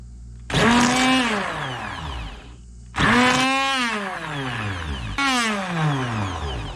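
An electric blender with blades mixing a protein drink, three loud whirring bursts that each start high and slide down in pitch as the motor loads, separated by short pauses.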